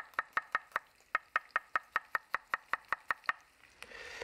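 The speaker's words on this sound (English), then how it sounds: "Can slice the garlic this way." Garlic sliced with a knife on a cutting board, a quick, even run of about seventeen crisp taps that pauses briefly once, then trails into soft rustling, with no talking.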